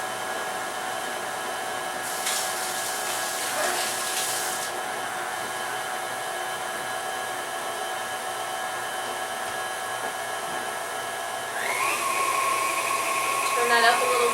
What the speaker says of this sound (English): I'm creaming my sugar and my butter on the number 4 setting, which is a medium setting.